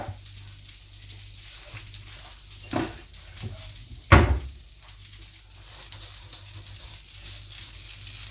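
Bacon and chicken fry in a pan with a steady, soft sizzle, broken by a couple of light clinks and one sharper clatter of cookware partway through.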